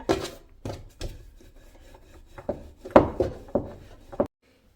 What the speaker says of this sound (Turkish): Çok hafif yuvarlak şekilde oklava ile hamurumuzu açmamız gerekiyor